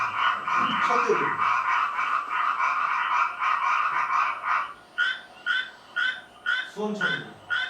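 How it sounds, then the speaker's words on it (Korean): A Japanese tree frog chorus of bright, rapid croaking calls, steady and dense for several seconds, then breaking into separate pulsed bursts near the end. "청개구리"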